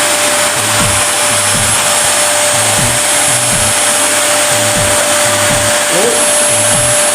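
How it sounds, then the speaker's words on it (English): A vacuum cleaner runs continuously under a bed with a loud steady whine, bumping and scraping in a repeating rhythm as it is pushed back and forth. "Vacuum under the bed."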